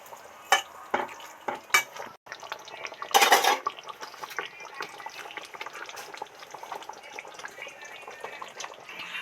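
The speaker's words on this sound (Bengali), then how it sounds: "বন্ধুরা উচ্ছে ভাজা দিয়ে বেশিক্ষণ ফোটাবো না, শুধু নেড়ে চেড়েই বন্ধ করে দেব।" Shukto with fried bitter gourd being stirred in a pan, with a string of sharp metal-on-pan scrapes and clinks over a soft background sizzle, one louder clatter near the start.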